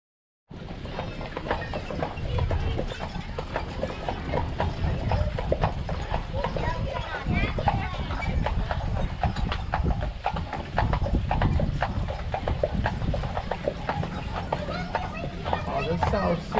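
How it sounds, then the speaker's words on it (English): Horse-drawn carriage on Mackinac Island, hooves clip-clopping in a steady rhythm throughout, with people talking over the hoofbeats. "Then it was time for our carriage ride."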